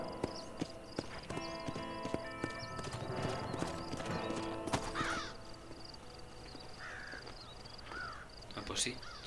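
In the Western video game Red Dead Redemption, horse hooves clop rhythmically, then fade as crows caw and a horse whinnies, with scattered voices and background game ambience.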